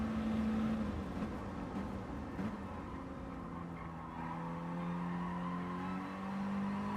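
Mini Cooper race cars lapping Dragon Trail in a racing video game, a steady engine drone with tonal whine shifting in pitch, continuous and moderately loud with no talk.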